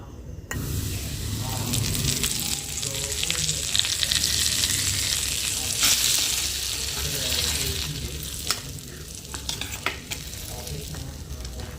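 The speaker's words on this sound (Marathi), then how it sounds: "आता थोडंसं गरम तेल टाकणार आहे मी" Hot oil is poured over coriander powder, turmeric and cumin powder for chivda, setting off a loud continuous sizzle with stirring and scraping, heard up close and rising then easing slightly over the whole span.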